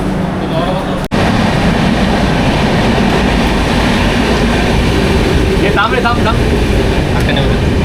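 A loud, continuous train roar fills the scene, with a sharp click near the start and a voice briefly heard under the noise.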